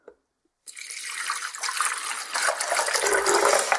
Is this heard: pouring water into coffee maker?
yes